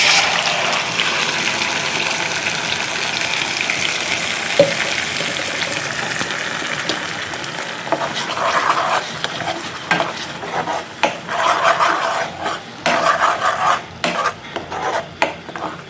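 Ground masala paste sizzles in a pan after kasuri methi for an egg curry, a loud, hissing fry that gives way to irregular scraping and clattering as a spoon stirs it, with no speech.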